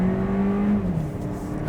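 A 1.6-liter turbo engine in a Hyundai Kona pulls hard under acceleration during a night drive, a steady droning tone rising then easing, heard from inside the cabin without talk.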